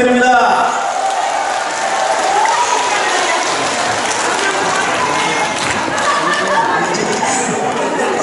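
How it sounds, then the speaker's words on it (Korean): Big, sustained applause from a crowd at a KBS Ulsan singing class, a dense wash of clapping that carries steadily for several seconds with murmuring voices underneath. "큰 박수 부탁드립니다"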